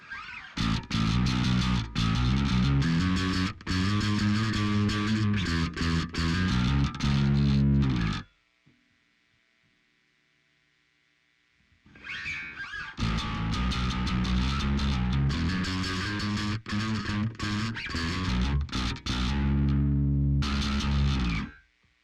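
Bass guitar run through a Darkglass Microtubes X Ultra preamp with the low-end compression cutoff turned all the way down, playing loud distorted riffs that stop for a few seconds of near silence before resuming.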